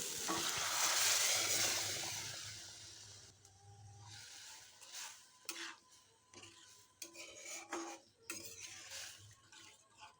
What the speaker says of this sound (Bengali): এই পর্যায়ে আমি জল সহ রাজমাটা এই মশলার মধ্যে অ্যাড করে দিচ্ছি